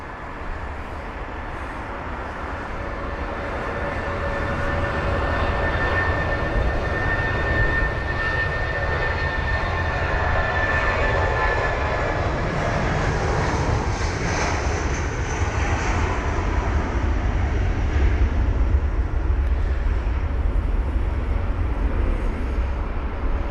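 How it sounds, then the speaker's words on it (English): Eurowings Airbus A319 taking off from Heathrow on a wet runway, a steady jet roar building over several seconds into a loud sustained rumble with a rising whine. "Now the Eurowings 319 for departure next. That's off to Hamburg."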